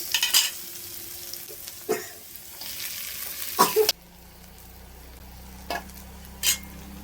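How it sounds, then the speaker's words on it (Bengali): Potatoes fry in a pan with a soft, steady sizzle, punctuated by several sharp scrapes and clinks of stirring spaced a second or two apart, close and alone without talk. "আর আলুটা দেখো ভাজা হয়ে গেছে।"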